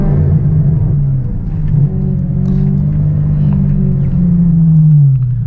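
A Ferrari F12 pulls away from a standstill, its low engine rumble swelling and easing through gentle revs, heard from inside the car at close range without any talk.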